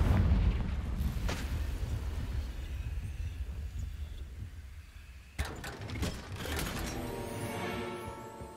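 Confringo explosion spells cast in Hogwarts Legacy give a deep, rumbling boom that fills the opening seconds, followed by a sharp blast about midway and a longer roaring tail, with tonal game music underneath toward the end.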